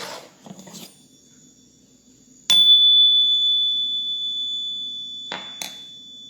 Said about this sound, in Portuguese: eu vou tocar um sininho, esse sininho aqui